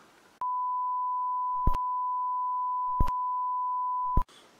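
Steady electronic phone tone after a call is hung up, one continuous pitched beep lasting about four seconds, interrupted by three brief clicks, clean and alone.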